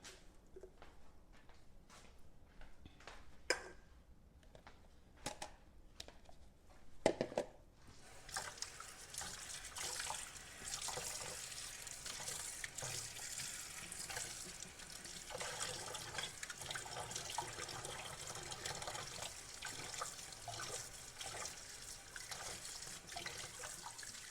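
Steady tap water running into a kitchen sink while dirty dishes are washed, a continuous splashing rush after a few earlier clinks and trickles.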